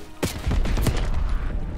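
Rapid gunfire from the Black Ops 6 campaign on PC: a sharp shot, then a dense, loud run of automatic fire with strong low-end thump that carries through the whole stretch.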